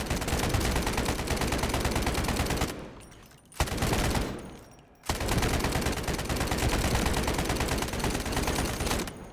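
Automatic rifle fire from the shooter game Delta Force, fitted with a laser sight, in long sustained bursts that are loud and close, broken by two short pauses, with no talking.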